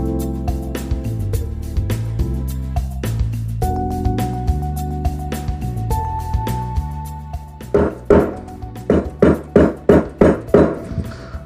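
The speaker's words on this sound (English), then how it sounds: "I ended up using a dead blow hammer to ensure they were inserted as far as I could get them" A dead blow hammer drives glued wooden wedges into the tenons of a hand-tool three-legged stool, giving sharp repeated thuds, slower at first, then a fast even run of closely spaced knocks near the end, up close.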